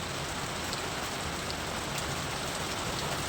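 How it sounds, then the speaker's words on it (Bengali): A steady downpour of heavy rain, a thick continuous hiss of drops striking a surface, loud and unbroken across the short stretch with no talking. "খুব বৃষ্টি হচ্ছে।"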